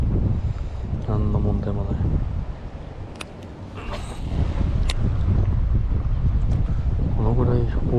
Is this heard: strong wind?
yes